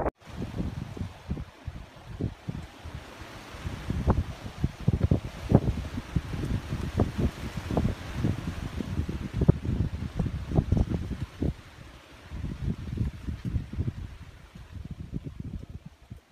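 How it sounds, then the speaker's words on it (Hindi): Strong outdoor wind gusts steadily against the microphone, producing a continuous low rumbling buffet with rustling texture that swells and eases over the whole stretch, with no voices. "बहुत हवा चल रहा है, बहुत तेज़ हवा है यहाँ पे"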